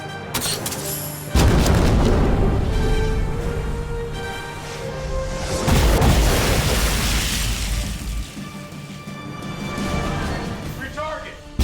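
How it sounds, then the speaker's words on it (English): Heavy main guns of an American warship firing in an action sci-fi battle scene: a loud booming blast, then a second surge of rumbling detonation, over dense music and effects with shouted voices in the mix. "Fire the main gun!"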